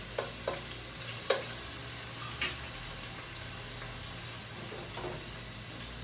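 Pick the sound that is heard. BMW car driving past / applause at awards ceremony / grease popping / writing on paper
grease popping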